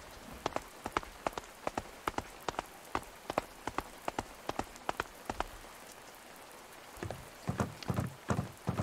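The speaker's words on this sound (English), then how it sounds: "why would it be raining like that?" Rain in the video game A Space for the Unbound: a soft patter of distinct drops falling irregularly, with a denser burst of heavier splashes near the end, no voices.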